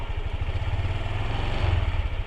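Honda Click 150 scooter engine, nine months old and with a low idle problem, revs up close by, a steady loud buzzing drone that swells slightly toward the end, with no talk.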